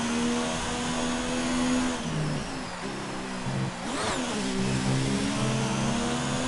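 A race car engine screams through a hot lap at Abu Dhabi, holding a steady high drone, dropping briefly as it downshifts around the two- and four-second marks, then revving back up, loud and close throughout.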